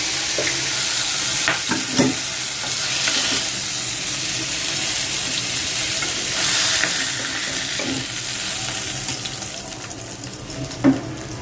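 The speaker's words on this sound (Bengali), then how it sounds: "পেঁয়াজটা ভাজা হোক" Onion frying in a pan, a steady broadband sizzle with occasional stirring knocks and scrapes, close and continuous, with no talk.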